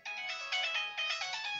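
A phone's text message notification tone chimes as a bright, repeating melodic ringtone, several quick bursts in a row, steady and clear with no talking over it.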